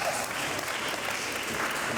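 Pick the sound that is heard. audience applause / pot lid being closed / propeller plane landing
audience applause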